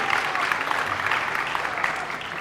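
Steady audience applause at an event, a dense wash of clapping that holds at an even level from start to finish with no voices over it.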